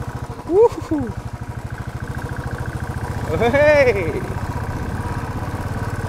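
A motorcycle engine runs close and loud while riding on a rough track near a waterfall in Khanapara, Nepal, its steady throbbing beat rising briefly, with someone speaking over it twice.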